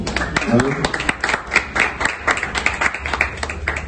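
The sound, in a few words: audience applause during plaque presentation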